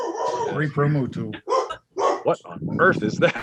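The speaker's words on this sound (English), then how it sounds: "That's a dog. Someone's got a dog." A dog barks a few times in the background while people talk over it in a podcast recording.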